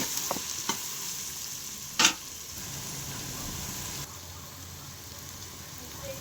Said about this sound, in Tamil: மசாலா மல்லித்தூள் மிளகாத்தூள் மட்டன் பொடி எல்லாத்தையும் போட்டு நல்லா கிளறி விடணும்